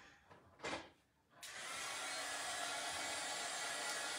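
A handheld dryer, likely a heat tool, blows air to dry a craft project. After a brief start-up it settles into a loud, steady whooshing hum, heard alone with no talking.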